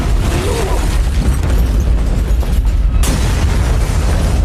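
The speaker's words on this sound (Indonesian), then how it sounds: "Ledakan pun terjadi." Explosion from the film High and Low, a loud, sustained rumbling blast with dense low-end roar and crackling debris for several seconds, then a sudden shift around the three-second mark.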